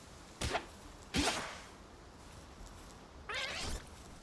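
Cat-like creatures meow in the Palworld video game, giving three short, sharp, whining calls with pauses between them over a faint background hum.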